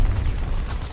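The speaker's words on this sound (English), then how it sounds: "Throwing grenade." A grenade explodes in a Battlefield 2042 match, a single deep rumbling boom that fills the short moment with low, heavy energy.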